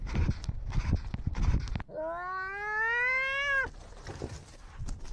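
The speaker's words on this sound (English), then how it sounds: "Have you ever heard a cat running and breathing?" Harsh, rapid breathing bursts up close, broken by one long drawn-out yowl before the heavy breathing resumes.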